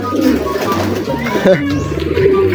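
Racing pigeons in training coo in low, throaty bursts close by, several birds overlapping, while a person talks over them.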